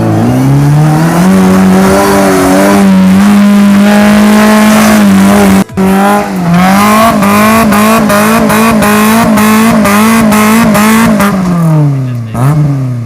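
A Suzuki Samurai off-road rig bounces its engine off the rev limiter, a loud, close, sustained roar broken by rapid rhythmic stutters as the limiter cuts in, with a sharp break partway through.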